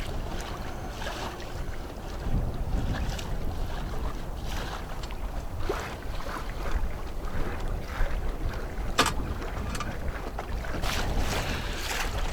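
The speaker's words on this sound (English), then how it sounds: "You can probably hear the waves slapping on the side" Waves slap against the hull of a Nordica 16 sailboat under way on Mississippi Lake, soft irregular splashes and knocks over a steady wash of water and wind, with no talking.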